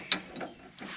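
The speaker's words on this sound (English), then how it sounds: "Alright, let's get this tightened up." Ratchet clicks as a nut is tightened on a sway bar end link of a 2011 Nissan Titan Pro4X, a sharp close click followed by a few softer mechanical clicks, with no talk.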